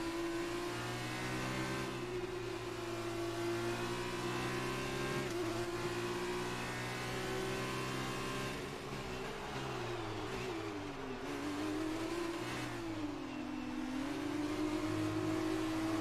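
Racing engines in F1 2019 scream steadily through a final lap, a sustained high-revving whine with shifting pitch as gears change and speed drops into corners, loud and continuous with no talking.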